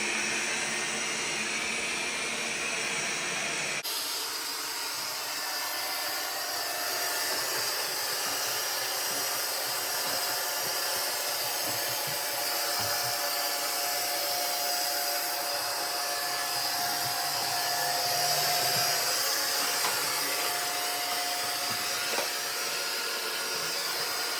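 A Roidmi EVA robot vacuum cleaner runs without mopping, switching on after a few seconds into a steady close whirring hiss that continues evenly with slight shifts as it works around corners.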